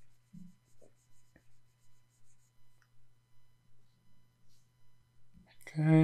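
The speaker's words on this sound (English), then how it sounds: "I'm going to erase back some of this so we can see a bit better" A pencil drawing of a head is erased with a rubber, giving soft, regular back-and-forth rubbing strokes at a steady rhythm over a low hum, with a voice starting at the end.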